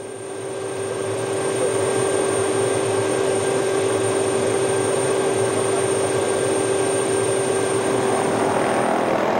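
A helicopter runs steadily and loudly nearby, its engine whine and rotor drone swelling over the first seconds and then holding an even, continuous tone with no voices.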